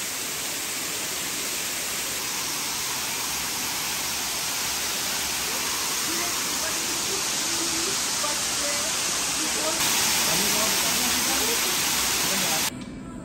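A waterfall in a canyon on Bali roars as a loud, steady, broadband rush of falling water, constant and close throughout, with faint voices barely emerging underneath.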